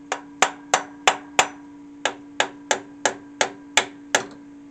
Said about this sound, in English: Go ahead and use my hammer.